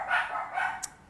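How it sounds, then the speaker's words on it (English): Indoor house dogs give two short barks close by, with a brief sharp yip at the end. "Oh, sorry about my dogs."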